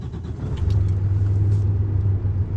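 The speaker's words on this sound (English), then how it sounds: "and then start the truck" A Metro Tow Trucks FB-15 diesel tow truck engine cranks and catches, settling into a steady low rumble that fills the clip from about half a second on, close and fairly loud.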